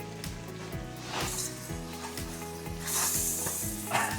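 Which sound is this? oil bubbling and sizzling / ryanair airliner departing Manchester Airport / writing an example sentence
oil bubbling and sizzling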